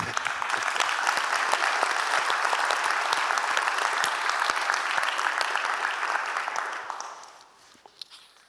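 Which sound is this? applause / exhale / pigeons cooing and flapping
applause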